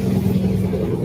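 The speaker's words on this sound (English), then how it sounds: "Traffic's loud." Loud road traffic outside, a steady low engine rumble that fills the whole short moment without a break.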